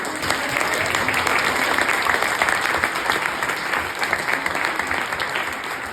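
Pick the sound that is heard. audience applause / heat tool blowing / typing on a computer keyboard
audience applause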